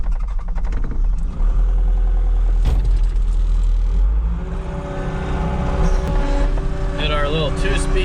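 A New Holland L220 skid loader engine runs steadily at a low, rumbling idle-to-mid speed, close by and loud throughout, with a slight rise in pitch toward the end as it works on a farm pushing up feed.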